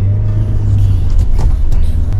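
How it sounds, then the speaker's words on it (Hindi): A Mahindra Thar drives and turns on desert sand near Jaisalmer, its engine a loud, steady, low rumble close by with light road noise on top and no talking. "गाड़ी खुद से टर्न ले गई।"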